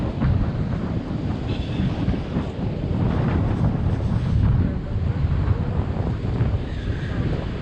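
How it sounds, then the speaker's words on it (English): Ocean waves surging on the shore under heavy gusting wind, a dense roar buffeting the microphone throughout with rising and falling swells. "Have a look at these waves."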